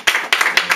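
A church congregation claps loudly in praise of God, several sharp, closely spaced bursts of applause ringing out in quick succession.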